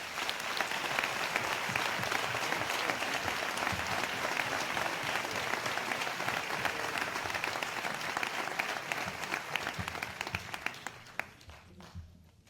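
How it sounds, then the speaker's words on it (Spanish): A crowd at a celebration event for eight Airbus workers claps warmly and steadily for Edgar, a dense sustained applause that fades out near the end. "Un aplauso para él, por favor"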